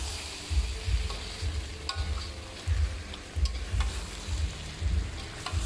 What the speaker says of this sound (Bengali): ওই বারবার একটু নাড়িয়ে চাড়িয়ে দিতে হবে, না হলে মাংস কিন্তু তলায় ধরে যাওয়ার সম্ভাবনা থাকে কষানোর সময় সবচেয়ে বেশি